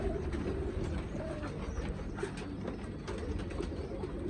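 Pigeons in a loft of breeding pairs keep up a low, continuous cooing and murmuring, a dense steady chorus close by with no talk.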